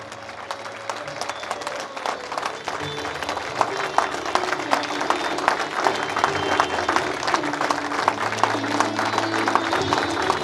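Sustained applause from a crowd at a rally, dense clapping that swells and keeps going for several seconds at a fairly close, loud level, with a voice briefly under it.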